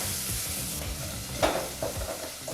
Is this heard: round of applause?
no